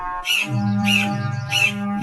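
A cartoon crow in a Gujarati animated story caws three times in steady rhythm, each call a harsh, nasal squawk that rings out loud and close over a low background hum.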